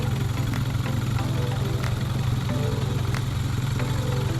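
An outboard boat engine runs steadily at idle on a river while fishing and camping at Robinvale, a loud continuous low throb with a few faint clicks on top and no talking.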